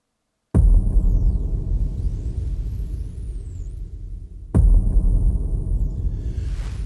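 Two deep cinematic boom hits from the DM307 library, a few seconds apart, each a heavy low impact that rumbles on with a shimmering, sweeping tail.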